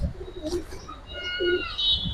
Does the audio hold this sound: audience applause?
no